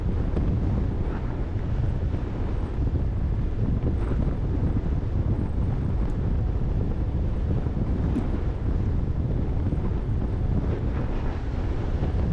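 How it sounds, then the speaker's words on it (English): Strong wind roars steadily into the microphone, a constant low rumbling buffet with no pauses throughout. "Very windy."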